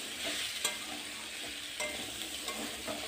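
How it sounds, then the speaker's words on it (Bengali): Potatoes fry in hot oil in a village kitchen, giving a dense, continuous hiss close by, with a few soft stirring scrapes along the way. "ভালো করে আলুটা ভেজে নেব।"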